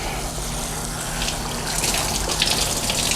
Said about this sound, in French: Je vais venir arroser ses cheveux.